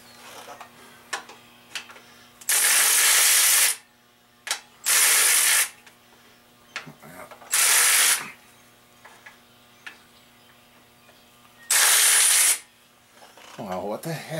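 A socket ratchet wrench clicks in several long, loud bursts of rapid pawl ticking while an engine is torn down, with quiet pauses and small tool clinks in between, and no talking.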